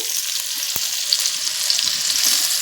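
Chopped onion fries in hot oil with dry red chili, bay leaf, cumin and whole garam masala, giving a loud, steady sizzle with one sharp clack of a utensil early on and no voices.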